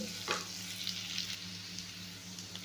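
Onion sautéing in a pan, a quiet steady sizzle with a couple of faint stirring scrapes, nearby and alone.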